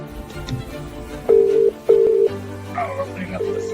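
Telephone line tones: two sustained dialing beeps, then a connecting tone as the call opens, heard with faint background sound and no clear talking.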